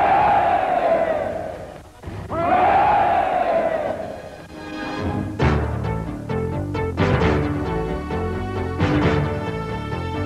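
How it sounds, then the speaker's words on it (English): A large cricket crowd roars three cheers for Don Bradman: loud, long swelling hurrahs rise and fall, followed by scattered shouts and applause from the packed ground. "Yardley, who has described Don as the greatest cricketer of all time, called on the crowd to give him 3 special cheers"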